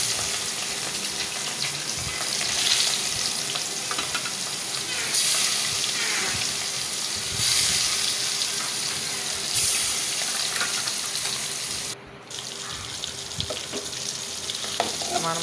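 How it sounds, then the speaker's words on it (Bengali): Fish pieces frying in hot oil on a stove, giving a loud, steady close sizzle that swells and eases over time, with a brief drop near the end and no talking. "মাছগুলার একটা একটা করে ছেড়ে দিলাম তেলের উপরে।"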